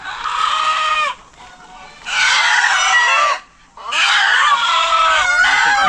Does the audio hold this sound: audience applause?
no